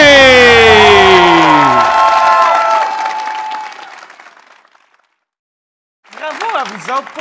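Loud applause with cheering and whoops from a live comedy show audience, fading out after about four seconds, followed by silence and then the emcee speaking briefly.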